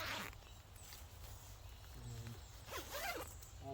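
A zipper on the vestibule of an Alps Mountaineering Tasmanian 2 camping tent runs in a couple of quick, close rasping pulls, quiet against a soft background hiss.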